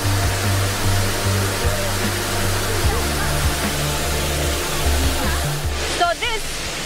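Water pours steadily into a power plant cooling tower basin, a broad, loud, unbroken rushing roar like a waterfall, with a low hum underneath.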